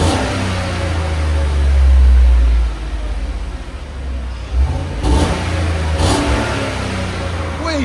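A 2015 GMC Sierra SLT with a 5.3-liter V8 and stock exhaust revs up, swelling to a loud roar and settling back, with a couple of shorter blips afterward over a steady engine drone.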